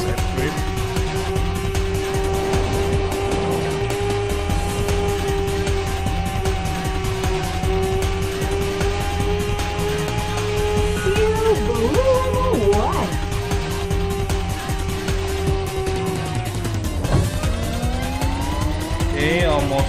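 A race car in the Rage Racer video game drives at speed, its engine droning steadily and loud throughout, shifting pitch, with tire squeals as it drifts through corners near the end.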